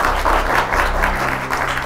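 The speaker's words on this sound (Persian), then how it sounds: "خب شما هم خوب تشویقشان کنین با کف زدنتان" A studio audience claps for a contestant on a Dari-language Who Wants to Be a Millionaire game show, with steady, dense applause filling the room throughout and a low music bed under it.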